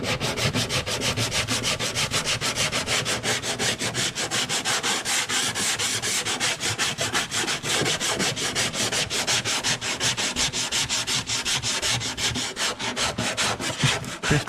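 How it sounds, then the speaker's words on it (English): Hand sanding on a 2017 Kia Forte body panel during a rebuild, a fast, steady back-and-forth scraping rub repeated continuously and up close without a break. "when you're sanding, you retain that curve."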